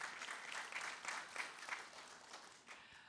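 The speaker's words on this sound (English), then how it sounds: "And then on the end, let's applause for John Saylor." An audience applauds a panelist at a policy panel on Texas colleges and universities, a soft, distant, even patter of clapping that fades slightly toward the end.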